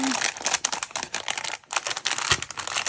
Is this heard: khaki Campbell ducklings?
no